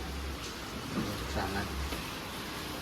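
Heavy rain pours down at a station in a dense, continuous roar of drops, with a low rumble underneath throughout.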